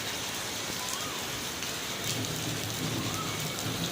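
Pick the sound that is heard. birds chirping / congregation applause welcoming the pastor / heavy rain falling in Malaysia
heavy rain falling in Malaysia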